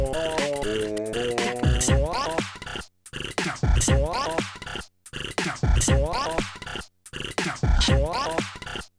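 A looping electronic beat pattern from a Pocket Operator, with pitched synth tones and glitchy stutter punch-in effects, repeating four times with brief gaps between.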